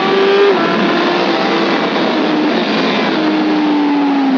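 A motorcycle at full throttle in second gear on the Vallelunga track at Campagnano, a loud, sustained engine howl that climbs steadily in pitch as it accelerates, with no voices.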